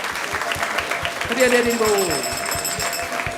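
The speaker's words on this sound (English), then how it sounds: "So let's give a big round of applause to everyone who has joined us here" An audience at a Sunday Feast temple program applauds, a steady wash of clapping running the whole stretch at moderate level, with a voice and tonal sounds rising briefly over it midway.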